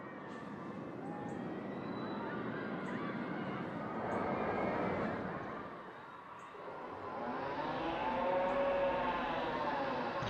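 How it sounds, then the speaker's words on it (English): Roller coaster ride in the Planet Coaster 2 park-building game, a steady rushing rumble with swells and fades as the train runs the track, fairly loud and continuous with no talk over it. "Can't get over the sound of that ride."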